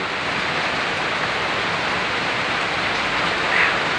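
Heavy rain pours steadily in a dense, unbroken hiss that stays loud throughout.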